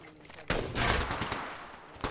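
Gunfire in Apex Legends Mobile: after a quiet moment, loud rapid bursts of automatic shots break out nearby and continue in uneven volleys, with another burst at the end.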